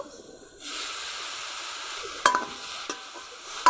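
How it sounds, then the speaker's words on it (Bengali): Sugarcane jaggery, grated coconut and a little water cook in a pan, giving a steady sizzling hiss that begins suddenly, with a few sharp scraping knocks of the stirring spoon against the pan toward the end. "নেড়ে নেড়ে গুড়টা রেডি করে নিব"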